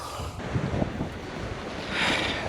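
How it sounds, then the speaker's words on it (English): Wind gusts buffet the microphone on a pier on Mornington Peninsula near Melbourne, a steady rough rumble with waves washing below, swelling louder toward the end; no talking. "Let me cover up the wind."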